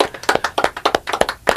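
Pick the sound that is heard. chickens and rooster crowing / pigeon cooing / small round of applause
small round of applause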